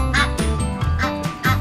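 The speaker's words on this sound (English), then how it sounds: "What would a sound of a goose sound like?" A goose honking in a farm-animal sound sequence, four loud, close nasal calls in a quick, uneven rhythm with no other sound.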